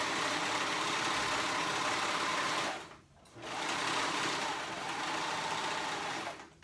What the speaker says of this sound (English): there was my first top stitch